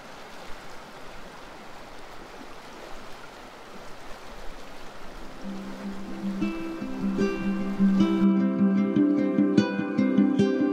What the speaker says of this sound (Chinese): 来给你们听听一下水声